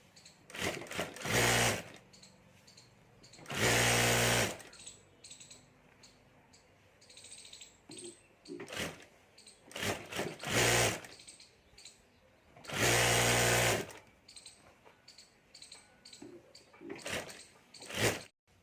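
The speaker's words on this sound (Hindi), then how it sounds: "तो इस तरह से मैं यहाँ एक बार मोड़ कर ऊपर सिलाई कर देता हूँ।" A sewing machine stitches down folded purse pockets in several loud bursts of rapid whirring, with quieter handling noise and pauses in between.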